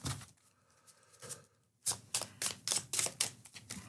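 A deck of cards is shuffled before a Fliptown solo board game session: rapid, crisp riffling bursts, first a softer quiet stretch, then a loud run of sharp rattling flutters in close succession, heard up close with no talk.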